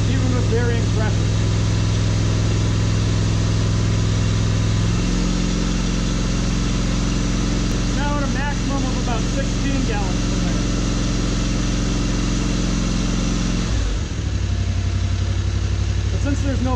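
An engine drives a high-flow steering pump on a test rig, running loud and steady throughout with a constant drone. The pitch drops partway through and shifts again near the end, and someone talks over it.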